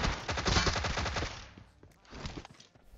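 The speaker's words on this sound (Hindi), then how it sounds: "और अपनी सप्रेसर से भरी टोमी गन से मैं इस बंदे को भी नॉक करता हूं" A suppressed Tommy gun in PUBG Mobile firing a rapid automatic burst of muffled shots, followed by a shorter, quieter second burst after a pause.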